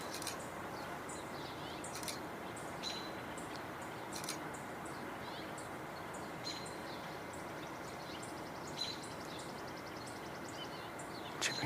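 A chipping sparrow calls outdoors in summer, giving short dry chip notes repeated every second or two, fairly distant and faint over steady broadband background noise.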